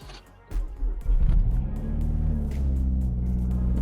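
A Mazda 3 MPS fitted with a front mount intercooler rumbles up to speed on a test drive, its engine note building from a low idle into a steady, close, droning cruise.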